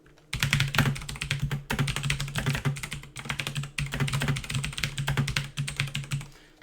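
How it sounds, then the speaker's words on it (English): Rapid typing on a mechanical keyboard, close and loud, a steady stream of clicky keystrokes with a few brief pauses, no talking. "It is a mechanical keyboard."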